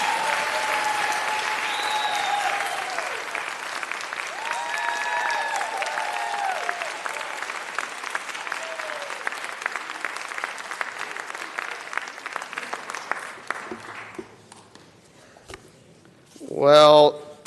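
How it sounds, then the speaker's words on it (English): Sustained audience applause fills a city council chamber for a Jewish Women's Theater performance, loud and steady for about fourteen seconds with voices mixed in, then fading out before a brief closing burst of sound. "Let's give another round of applause for the Jewish Women's Theater."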